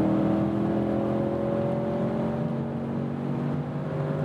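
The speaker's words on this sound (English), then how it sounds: "I'm here at 150 kilometers an hour, and now I shift back twice." A 2021 Audi S8 with 571 hp at 150 km/h on a night autobahn, engine drone and tire roar heard from inside the cabin, rising steadily in pitch as it accelerates, no talking.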